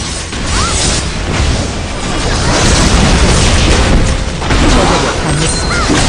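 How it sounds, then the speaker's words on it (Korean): Turret destruction in League of Legends: a dense, loud, sustained crashing boom and rumble of game effects lasting several seconds, with faint bits of announcer voice under the din. "포탑이 파괴되었습니다."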